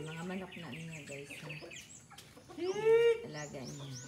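Native chickens in a backyard in Davao, several birds clucking and calling close by, with one loud rising squawk near the end over a faint background voice.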